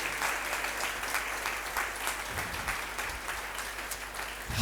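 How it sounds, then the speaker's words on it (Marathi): A church congregation claps to give thanks to the Lord, dense sustained applause at full volume from start to finish with no pause. "टाळ्या वाजून प्रभूला धन्यवाद देऊया"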